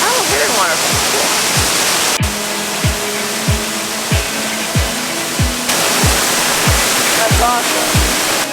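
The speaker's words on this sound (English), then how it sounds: "Cascada Esplendida. Which means hidden waterfall." Cascada Esplendida, a hidden waterfall in Jardin, Colombia, roars as a loud, constant wash of rushing water, with faint repeated low thumps running underneath.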